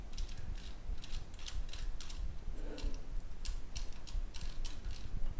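Small plastic gears mesh and tick steadily inside a 3D printed Tamiya Hotshot 1/32 RC conversion chassis as its wheels spin together, a close, continuous ratcheting whir with no talk.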